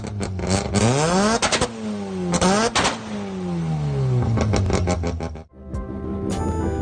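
Mazda RX-7 rotary engine revving hard, several sweeping rises and falls in pitch, loud and close, with a brief lift-off dip before climbing again near the end.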